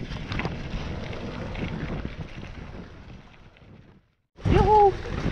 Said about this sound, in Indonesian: Anginnya bung, kencang sekali